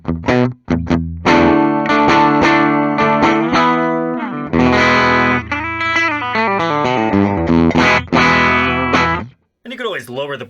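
Epiphone Korina Flying V electric guitar on the bridge pickup plays bright, crunchy distorted chords and riffs up close, ending with a brief spoken voice.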